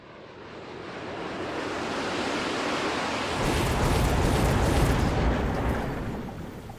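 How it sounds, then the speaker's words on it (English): A napalm strike in the strategy game Mechabellum sends up a broad, roaring rush of fire that swells abruptly partway through and stays loud and dense before easing off. "There's the napalm."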